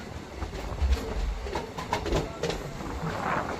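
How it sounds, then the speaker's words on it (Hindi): Jhansi Etawah Intercity Express pulling into Bhind railway station on a drizzly day, a steady low rumble of rolling railcars with faint clicks of wheels over rail joints, moderately close and without talk. "अपनी इंटरसिटी मात्र 3 मिनट की देरी के साथ भिंड रेलवे स्टेशन पहुंच रही है"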